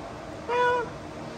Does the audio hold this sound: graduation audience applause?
no